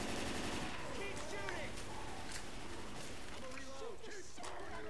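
Rapid automatic gunfire in Left 4 Dead 2 rattles continuously from a shooter's viewpoint, mixed with game effects and bursts of chatter over a dense, loud backdrop.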